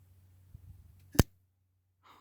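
A Bestech Lion folding knife flips open with a single sharp, bright click in an otherwise quiet room, over a faint low hum.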